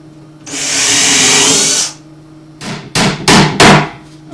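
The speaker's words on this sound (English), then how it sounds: "Now we're going to pre-drill the bottom." A power drill whirs loudly for over a second pre-drilling wood for a wood duck nesting box, then several short, sharp knocks and clatters follow close by.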